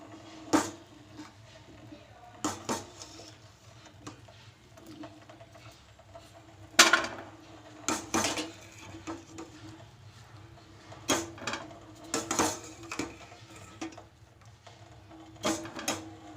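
Fried papaya fries lifted out of a pan with a utensil, heard as sparse scraping clinks and knocks against the pan over a faint background hiss, close and intermittent.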